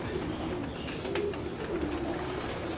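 Pigeons cooing in a loft viewing area, soft repeated low coos over a steady background hum, close and continuous.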